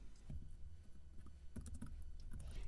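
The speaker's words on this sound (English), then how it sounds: "I'm just going to keep on typing it this way" Soft keystrokes come in short, uneven bursts as PHP code for a WordPress functions file is typed on a computer keyboard. The tapping is quiet and faint, with no voice over it.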